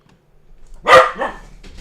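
A pet dog barks at a dog on a TV screen, giving one loud, close bark followed quickly by a second, shorter one in an otherwise quiet room.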